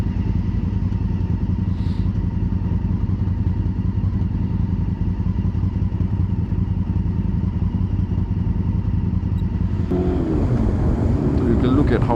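Honda CB400 Super Four motorcycle engine droning steadily while riding with wind buffeting the microphone, rising in pitch as it accelerates near the end.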